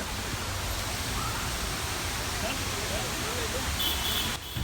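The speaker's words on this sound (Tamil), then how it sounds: "மழை பாருங்கள், செம்மையாக மழை பெஞ்சிட்டு இருக்குது" Heavy rain falls at a hill station in the Tamil Nadu hills near Kodaikanal, a steady dense hiss of drops with a low rushing undertone, continuous and close until a brief dip at the end.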